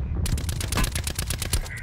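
Rapid automatic enemy gunfire in Call of Duty: Black Ops 4, a tight burst of evenly spaced close, loud shots lasting under two seconds.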